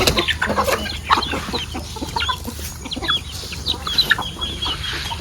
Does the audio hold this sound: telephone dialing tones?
no